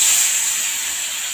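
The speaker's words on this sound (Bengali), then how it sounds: "এখানে মাছ ভাজা হচ্ছে" Small khoka hilsa fish frying in hot oil in a wok, a loud steady sizzling hiss that stays close and constant with no talk.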